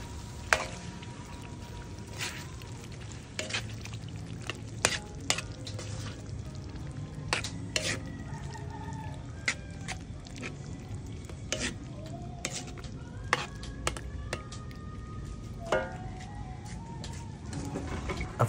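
Squid sizzling and frying in a pan for a Cajun seafood dish, a steady crackling hiss broken by frequent sharp stirring clicks and scrapes throughout.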